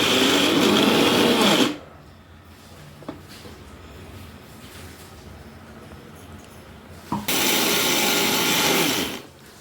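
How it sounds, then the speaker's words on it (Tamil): Mixer grinder pulverising roasted sesame seeds, running loud and close in two bursts with a quiet pause in between. "மிக்சியில போட்டு அரைச்சிருங்க நல்லா அரைச்சிருங்க"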